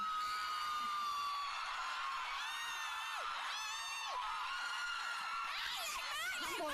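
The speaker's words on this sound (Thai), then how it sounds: "ขอบคุณสำหรับเสียงกรีดทุกเสียงเลยนะคะ" A large crowd of fans at a fan meeting in Surat Thani screams and shrieks continuously in high-pitched, overlapping voices, loud and sustained throughout with rising and falling wails.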